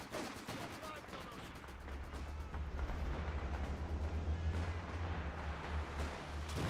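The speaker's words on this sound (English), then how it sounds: "Stuka barrage coming in again." A Stuka dive bomber barrage in Company of Heroes arrives as dense, rumbling bursts of gunfire and explosions, rolling continuously at moderate volume under faint voices.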